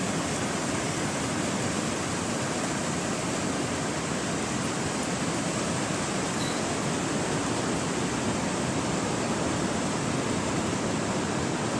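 Ocean surf at Parangtritis Beach rolls in as a steady, loud, broadband wash of breaking waves, continuous for the whole stretch with no voices.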